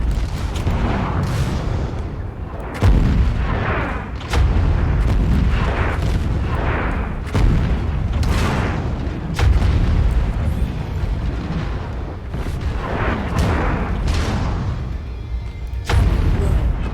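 Missile fire and explosions in the MechWarrior 5: Mercenaries video game: repeated heavy booms and blasts land every couple of seconds, loud and close, over a constant rumbling battle din.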